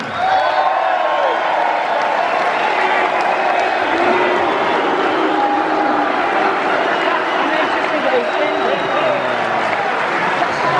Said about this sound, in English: Keep the applause going, welcome John Altman.